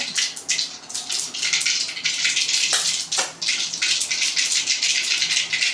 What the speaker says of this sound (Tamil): இப்போ பாருங்கள், கடுகு நல்லா பொரியுது